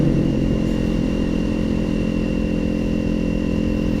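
Motorcycles pass on Marilaque road, a loud continuous engine drone with steady rumble and no pauses, close by throughout.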